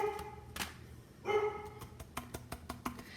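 Dogs bark in the background of an indoor card-making session, a series of sharp repeated barks and yips from a little distance, some clustered quickly together toward the end.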